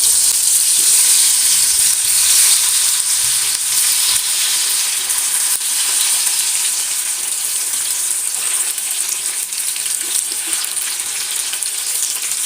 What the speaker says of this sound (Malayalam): അതിലേക്ക് നമ്മൾ കോളിഫ്ലവർ ഓരോന്നിട്ടിട്ട് നമുക്ക് വറുത്തെടുക്കാം